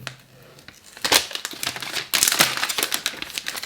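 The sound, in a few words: plastic wrap being pulled off an iPhone 12 box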